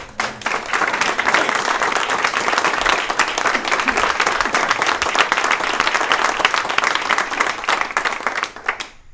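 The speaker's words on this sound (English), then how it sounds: "We should go give him a round of applause." Crowd applause for a speaker at a Tea Party picnic, a loud, sustained clatter of many hands clapping at once, keeping an even intensity for about nine seconds before cutting off.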